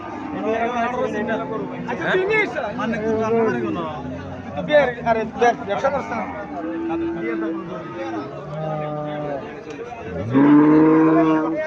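At a cattle market, a medium-sized cow and her 43-day-old calf moo several times, close and loud, the last call rising strongly over people talking nearby.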